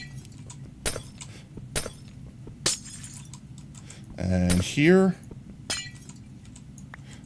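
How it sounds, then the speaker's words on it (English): Glass blocks shattering in a video game: several brief, sharp crash bursts spaced across the clip, with one speaker talking briefly among them. "The glass breaking sound makes your brain enter a mini fight or flight mode."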